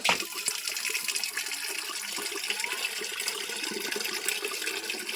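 Cold water pours and splashes steadily in a home kitchen, a continuous rushing wash of liquid that stays fairly even and close throughout, with no voices.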